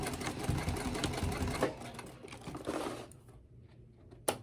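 A sewing machine stitches around a zippered pouch in a steady, close run lasting about three seconds before stopping, followed by a quiet pause and a brief click.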